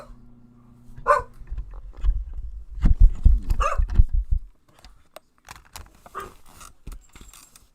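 Dogs barking indoors during a football game watch party, a few sharp barks in bursts around the middle, fairly close, with quieter thumps and clatter afterward.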